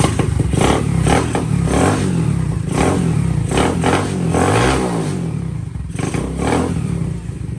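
A Honda ST90 fitted with a Lifan 125cc semi-automatic engine revs loudly and repeatedly up close, a rough, throaty engine note rising and falling in bursts.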